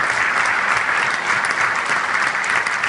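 A large audience at a French political rally applauds loudly and continuously, a dense wash of clapping that holds steady throughout with no voices above it.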